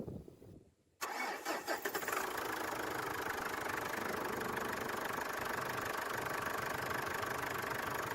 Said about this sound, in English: start the engine for the first time